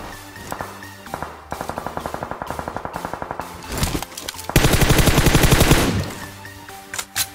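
Bursts of automatic gunfire in the mobile battle royale game PUBG Mobile: rapid evenly spaced rattling shots, then a louder dense volley near the middle, followed by a few scattered single shots, close and alone without talk.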